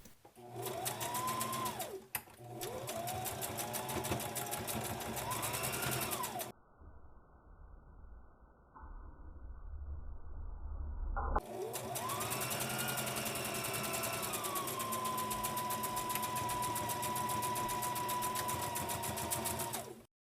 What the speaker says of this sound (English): hem the short sides of the outside fabric